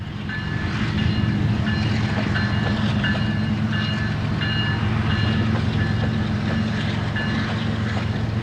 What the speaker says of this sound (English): the mill job is hard at work switching a mix of empty coal and coke hoppers out of U.S. Steel for eventual interchange back to the CSX